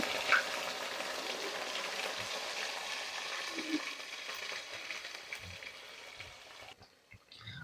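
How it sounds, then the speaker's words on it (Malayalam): Cooked beef pieces frying in hot oil for beef pickle give a steady, close crackling sizzle that fades toward the end, leaving a few faint stirring clinks. "നമ്മൾ നേരത്തെ വേവിച്ച് വെച്ചിരുന്ന ആ ഒരു ബീഫ് ഉണ്ടല്ലോ നമുക്കത് വെച്ചിട്ട് അതും കൂടെ നല്ല പോലെ ഒന്ന് വറുത്ത് കോരിയെടുക്കാം"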